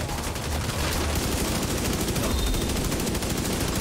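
Sustained rapid automatic gunfire in the video game The Division 2, fired into a box, with an even, steady burst of close, loud shots running without pause for several seconds.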